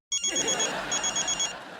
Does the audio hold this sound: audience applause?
no